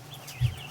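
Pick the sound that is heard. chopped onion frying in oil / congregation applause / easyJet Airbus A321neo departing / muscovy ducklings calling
muscovy ducklings calling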